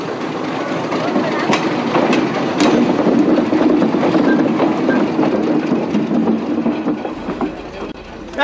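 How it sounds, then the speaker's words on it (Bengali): A train pulling out of a station rumbles on steadily up close with faint clatter, while background voices and other bustle mix in. "ওই যে ট্রেন ছাড়লো"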